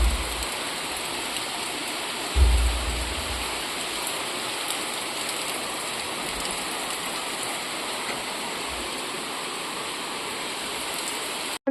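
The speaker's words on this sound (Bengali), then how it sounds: "বাইরে বৃষ্টি হচ্ছে" Rain falling steadily outside a home, a continuous dense patter and hiss heard from indoors, with one low thump early on and no talking.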